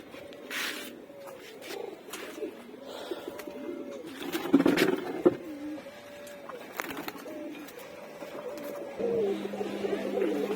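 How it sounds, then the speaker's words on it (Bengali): Pigeons bathing coo again and again in soft, rolling calls, close by, with a few splashes and flutters between the coos. "এই যে কবুতরগুলো গোসল করা শুরু করে দিয়েছে,"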